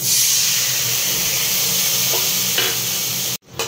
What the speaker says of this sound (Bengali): এবারে আমি এর মধ্যে 1 কাপ জল ঢেলে দেবো।